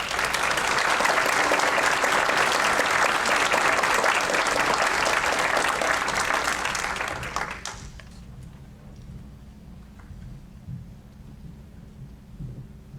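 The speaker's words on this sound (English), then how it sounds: "Let's give her a round of applause." Dense, loud applause from the audience at a county board of commissioners meeting fills the room for about seven seconds, then fades out, leaving quiet room noise with a few faint taps.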